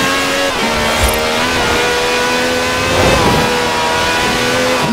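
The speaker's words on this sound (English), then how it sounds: "A good old-fashioned rolling burnout." A car does a rolling burnout in the racing game Forza Horizon 4, its engine revving loud and sustained while the tyres squeal continuously up close.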